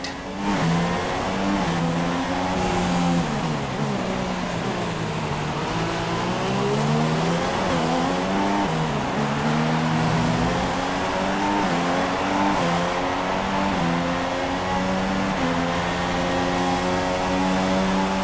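Formula 1 race car in the F1 2016 game on PS4, engine screaming loud and continuous as it climbs through the gears with repeated pitch sweeps and shifts, holding high revs throughout.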